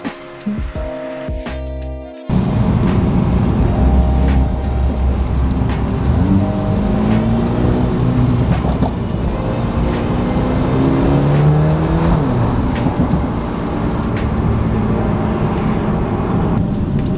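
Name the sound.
Mercedes A35 AMG car engine driving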